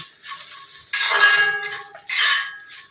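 Bitter gourd frying in a pan while a utensil scrapes and stirs it, two clear bursts of metallic scraping over a close, steady sizzle, no talking.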